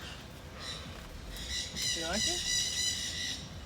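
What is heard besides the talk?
pet parakeets squawking and chirping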